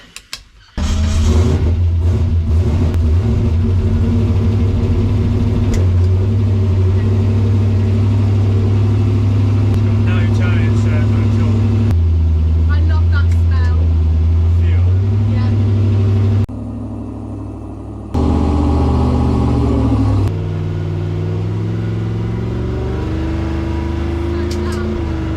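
An old muscle car's engine runs steadily on the road, a loud continuous low drone with shifts in pitch as it changes speed, and brief drops in level partway through.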